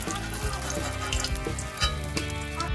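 Fish pieces for a Bengali fish dish fry in hot oil, a steady close sizzle with crackling and occasional soft stirring clatter throughout.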